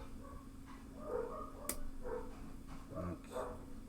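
Two dogs, one large and one small, bark a few times indoors, the deeper and higher woofs spaced out over a low steady background hum.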